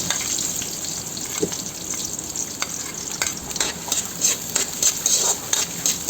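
Garlic and onion frying in a pan for vegetable spring roll filling, a steady bright sizzle with intermittent stirring scrapes and clicks, close and fairly loud, with no voices.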